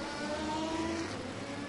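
A Maserati race car from the Vitaphone team in the Spa-Francorchamps 24 Hours, a steady high engine whine holding a fairly constant pitch with no passing swell, at moderate level.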